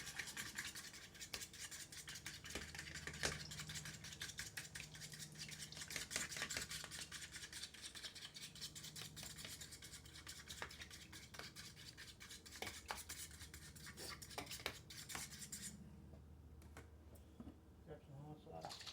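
Quick, rhythmic scraping and clicking of a utensil whisking breakfast ingredients in a bowl, fairly quiet and continuous, with a voice speaking over parts of it.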